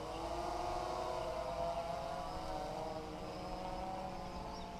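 Propellers of a DJI Phantom 2 Vision Plus drone hum steadily after the throttle is pulled down, a constant buzzing whine with tonal bands that holds at a moderate, even level without pause.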